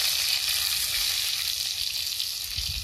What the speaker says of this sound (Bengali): এখন এই তেলে আগে থেতো রসুন গুলো ফোড়নে দেবো।